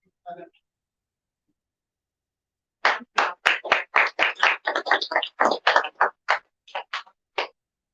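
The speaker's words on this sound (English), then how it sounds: "A round of applause one more time" At a business seminar, an audience breaks into scattered hand claps after a quiet pause, with sharp, separate claps from a fairly small group for several seconds before they stop.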